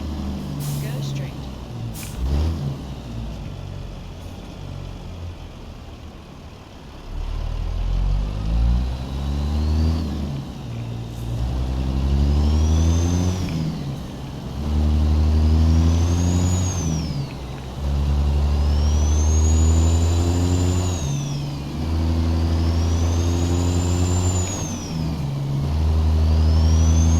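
A heavy truck engine with a 13-speed gearbox in American Truck Simulator rumbles low and loud, climbing in pitch and dropping again through a series of gear shifts, close and steady, with a hiss early on.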